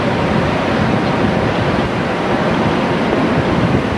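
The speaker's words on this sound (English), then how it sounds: "It's kind of windy out here today." Steady, loud wind buffets the microphone at a NASA space shuttle launch pad, a constant broadband roar, no voices, just continuous rushing noise throughout.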